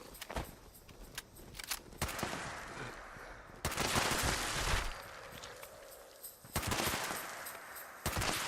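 Rapid automatic gunfire in Fallout 76, loud bursts of shots erupting in several clusters with short quieter gaps between them, close and sharp.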